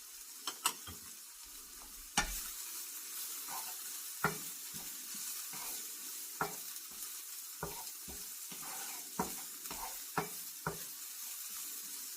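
Four cloves of finely chopped garlic sizzle in a pan for a French cassoulet, a soft steady frying hiss punctuated by frequent sharp taps and scrapes of a utensil stirring, close and moderately quiet.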